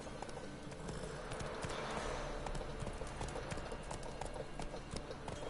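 Hooves of Roach, a horse in the video game The Witcher 3, clip-clop in a steady rhythm over a busy background of game ambience, sounding close and continuous throughout.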